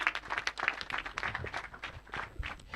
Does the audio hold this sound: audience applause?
yes